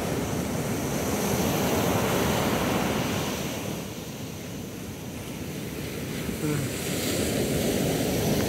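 High ocean waves out in the open sea, heard from a beach with rough currents, make a loud, continuous surf roar mixed with wind buffeting. The roar swells, eases briefly midway, then builds again.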